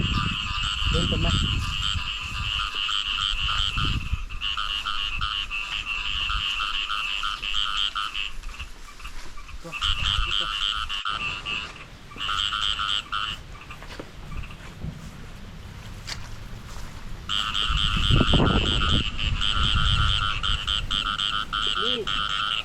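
Frogs croak in a rice paddy at night after rain, a dense continuous chorus of rhythmic pulsing calls that drops out briefly midway and then returns, with occasional low thumps and footsteps nearby.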